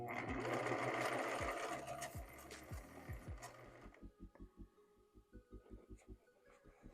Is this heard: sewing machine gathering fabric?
yes